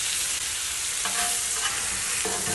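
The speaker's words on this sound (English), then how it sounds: "I'm going to go ahead and flip them over." Pork chops sizzle steadily on a Blackstone griddle just after being flipped, a constant close hiss of frying with a couple of faint scrapes mixed in and no talking.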